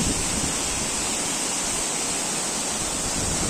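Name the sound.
Bambarakanda waterfall, strong flowing water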